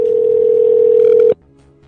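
Telephone ring tone on an outgoing call, a loud steady tone held for over a second and then cut off abruptly, followed by a faint low hum.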